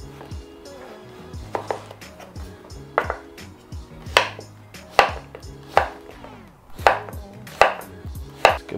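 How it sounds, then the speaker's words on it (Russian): A knife chops zucchini on a cutting board in sharp, regular thuds about once a second, with light clinks between strokes and no talking. "Поэтому тонкие части мы нарезаем на половинки."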